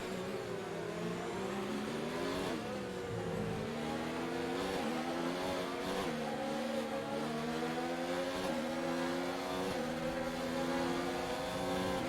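Formula 1 car in F1 2019 racing the Chinese Grand Prix, engine note climbing in steady rising sweeps with each upshift as it accelerates out of a corner, loud and continuous, heard from on board with no talk.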